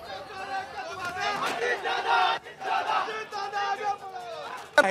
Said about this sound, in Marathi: आमदार आणि कार्यकर्ते हे दोघंही आता जल्लोष करताना पाहायला मिळतात